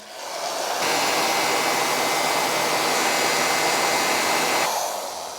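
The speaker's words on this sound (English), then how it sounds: "This is my industrial heat gun. Let's turn it on." An industrial heat gun runs with a loud, steady blowing roar. It switches on abruptly, holds at constant strength for several seconds, then winds down at the end.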